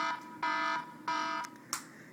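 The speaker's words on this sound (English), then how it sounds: "You can have it the sound, which is right now, alarm." An iPhone alarm tone playing close, three sustained repeating electronic beeps in an even rhythm, then a short sharp tap.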